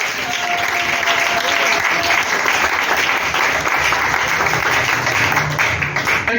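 A church congregation applauds, sustained and dense clapping from a large crowd that carries on at full strength without a break.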